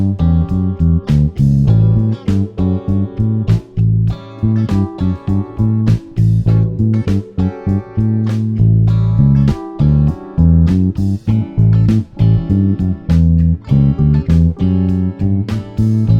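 Bass guitar line using a Mixolydian shape in eighth notes with alternate plucking, played over a backing track; loud, steady, rhythmic low notes throughout with no talk.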